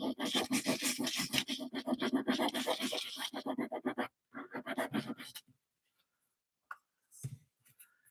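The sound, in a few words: sanding block distressing painted beveled edges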